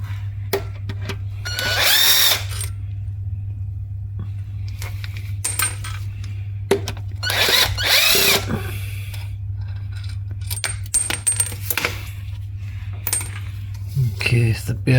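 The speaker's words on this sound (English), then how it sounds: "That's a rattling noise of the two 10mm balls." Two 10mm steel balls rattle and clink in short metallic bursts during diagnosis of a knocking Suzuki J20A engine from an SX4 or Vitara, loud and close, over a steady low electrical hum with scattered small taps between.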